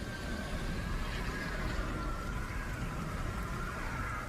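Steady hiss of acid rain falling during a volcanic eruption, a dense, even wash of droplets at constant loudness throughout, with a faint tonal whine running underneath and no voices.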